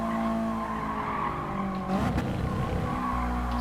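Race car in GT Sport braking into a corner, a steady engine drone broken by a burst of tire and brake noise partway through, then the engine note settles lower; close and continuous with no talk.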